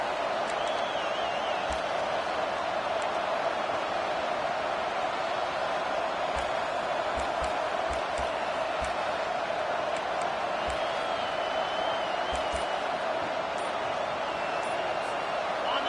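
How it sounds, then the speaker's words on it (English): A stadium crowd at a TCU vs Auburn college football game roars in a sustained, even wash of noise on a big third down, with scattered whistles and claps over the steady din. "The crowd elevating its energy, willing this defense to get a stop on this big third down."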